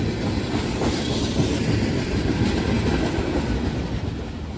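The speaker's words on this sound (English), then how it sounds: "Alright, so this train is finally on its way." An intermodal freight train rolling past on the rails, a loud, steady broadband rumble and wheel noise close by, without pauses or voices.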